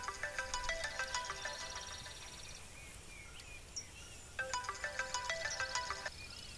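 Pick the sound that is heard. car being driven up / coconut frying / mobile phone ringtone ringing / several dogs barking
mobile phone ringtone ringing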